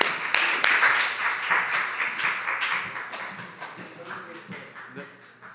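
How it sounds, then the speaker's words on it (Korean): Fairly faint, scattered clapping from a church young adults' Sunday worship congregation as someone comes forward, a patter of claps that slowly fades over several seconds. "나오실 때 큰 박수 부탁드립니다."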